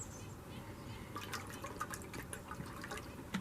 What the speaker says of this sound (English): let's pour about half of it in